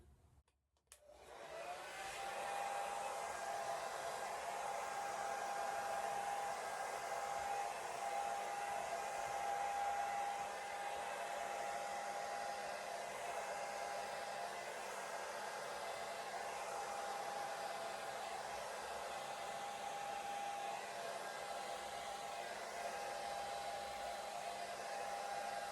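A Remington hair dryer with a thin nozzle, on its cool setting and blowing across wet pour paint, starts with a click and then holds a steady, close, continuous whine and rush of air.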